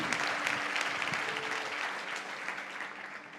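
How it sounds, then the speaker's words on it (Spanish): A church congregation applauds together, a dense, loud burst of many hands clapping that slowly fades over a few seconds, with a faint voice beneath. "te damos un aplauso grande"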